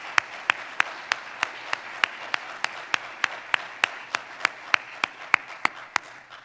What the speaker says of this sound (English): Let's give a warm round of applause to our musicians